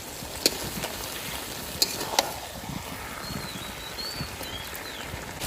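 Mutton sautéed with oil in a pan sizzles softly and steadily, with a few sharp clicks from the spoon striking the pot, close by and with no voices.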